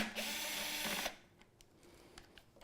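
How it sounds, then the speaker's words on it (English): A small power drill fitted with a 6mm bit whirs steadily for about a second while working on office desk chair bolts, then stops, leaving faint clicks and handling noises. "it helps when you have a little drill and a 6mm tip on it"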